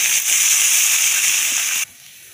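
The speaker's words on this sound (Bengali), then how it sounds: "এবার আমরা ঝোলের জন্য জল অ্যাড করে দেব।" Water is poured from close by into cooked-down masala to make curry gravy, giving a steady splashing hiss that lasts about two seconds and then stops abruptly.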